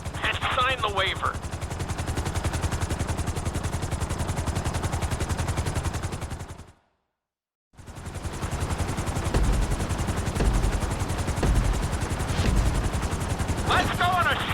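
Helicopter in GTA 5 flight school, a loud steady rapid rotor chop that cuts out briefly and returns, with a thudding rhythm near the end.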